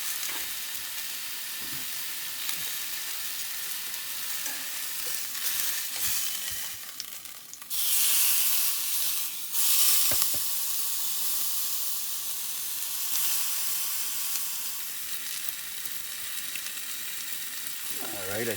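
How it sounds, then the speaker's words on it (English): Food searing in a hot pan, a long steady hiss that swells into louder spitting bursts of sizzle and steam midway, then settles back, near and sustained with no clear talk. "You just sear it first."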